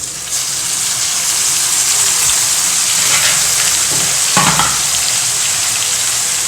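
Anchovy dry fish curry sautéing in a pan with tomatoes, a continuous loud sizzle and crackle of frying with occasional stirring scrapes, no voices.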